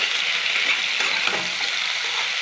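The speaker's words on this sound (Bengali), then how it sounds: "মাংসগুলো দিয়েও আমি কিছুক্ষণ ভাজবো" Chicken pieces frying in a pan with black cumin paste, a steady dense sizzle holding close and loud throughout with no voices.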